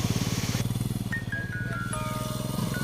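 A motorcycle ridden off-road along a badly broken, muddy track, its engine chugging in a steady close drone that rises and falls through the gears, with brief whining tones over the rumble.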